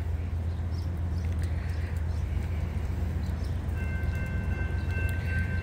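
A freight train carrying steel coils rumbles past in a steady, continuous low roar, with a faint high whine rising near the end.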